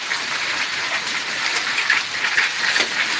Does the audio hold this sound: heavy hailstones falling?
yes